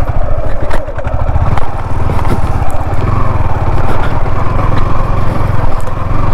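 A Yamaha R15 motorcycle engine revs loud and close while riding off-road, a steady throbbing drone with clattering and scraping over rough ground.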